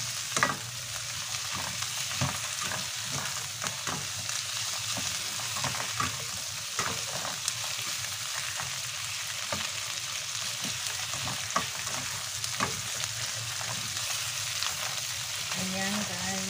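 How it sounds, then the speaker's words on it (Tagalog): Chicken pieces frying in a pan for a creamy Cajun chicken pasta, a steady loud sizzle throughout with occasional stirring scrapes, close up and without talk. "Medyo lulutuin muna natin ng konti yung chicken guys."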